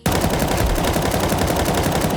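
Rapid automatic gunfire from a rifle in Counter-Strike 2, a continuous loud burst of closely spaced shots lasting about two seconds with no pauses.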